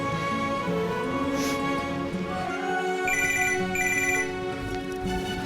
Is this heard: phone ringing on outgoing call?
yes